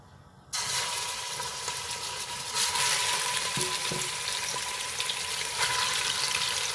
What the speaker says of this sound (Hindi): और इसके अंदर हमने डालना है अपना मीट, और इसको अलग से यहाँ पे फ्राई होने देना है।